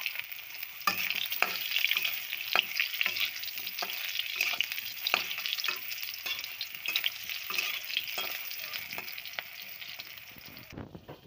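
Pointed gourd (potol) pieces frying in hot oil with black cumin, a continuous sizzle broken by regular stirring scrapes across the pan, heard close with no talk.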